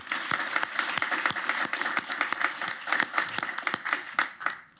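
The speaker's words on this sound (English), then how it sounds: "So a big round of applause." A small audience claps at the close of the Falling Walls Lab event in Brisbane, with distinct individual hand claps standing out in an uneven, lively rhythm. The applause is fairly near and carries on continuously.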